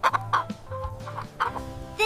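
A chicken clucking in short, close bursts, several quick clucks at the start and again near the end, with a low steady background tone between them.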